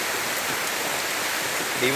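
Heavy rain falls in a continuous, loud, dense hiss with no breaks, a steady downpour that has lasted since the night before.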